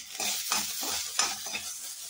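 Sliced tomato sizzling and frying with browned onion in a pan, a steady close hiss broken by several stirring scrapes, with no talk.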